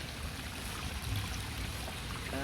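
A small race of water runs through a garden channel in a Derbyshire garden, a steady, close babbling trickle with constant broadband wash and no talking.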